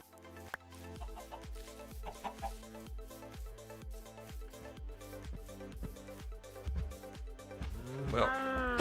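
Chickens in a video game cluck repeatedly in short bursts over steady background music, with a louder flurry of clucks near the end.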